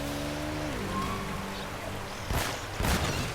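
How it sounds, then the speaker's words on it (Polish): Gunfire in the video game Uncharted: two quick clustered bursts late in the stretch, preceded by a descending tonal game sound over a steady background bed. "Tu szybki strzał i tu szybki."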